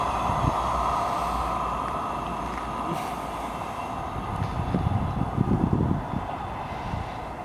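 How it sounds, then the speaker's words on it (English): A four-car British Rail Class 158 diesel unit, running Edinburgh to Dundee, passes South Gyle with a sustained rumbling roar and wheel clatter on the rails that swells slightly mid-way, heard close and fairly loud. "What's coming through now is a Class 158. This is 1L11, the 1702 from Edinburgh to Dundee. 4 cars."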